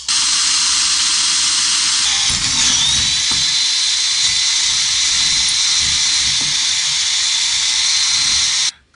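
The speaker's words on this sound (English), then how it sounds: "safety glasses on, because you're drilling into metal" A power drill whines steadily in a high, hissing tone for several seconds, grinding continuously into metal before cutting off abruptly at the end.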